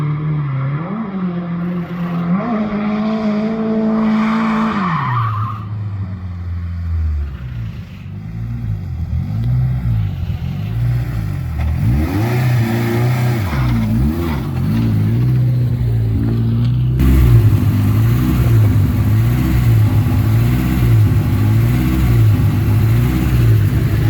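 A K24-swapped rear-wheel-drive Honda Civic EG revving hard and close in third gear downhill, pitch climbing and falling as it winds up, with a steady roar and road noise throughout.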